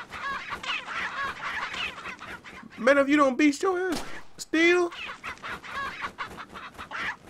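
Chickens cluck repeatedly in the Resident Evil 4 video game, bright clucks and squawks running steadily under someone talking over the action.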